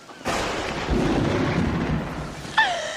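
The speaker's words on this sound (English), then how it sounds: "Cue thunder. Cue thunder." A thunder sound effect cued on a staged rainy set rolls in as a loud, sustained rumble for about two seconds, then a brighter crack near the end.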